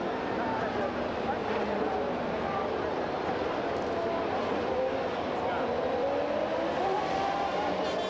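Formula One cars from the 1994 season at Imola, heard as a continuous dense engine roar with passing whine, steady and fairly loud throughout the whole stretch, with a commentator talking over it.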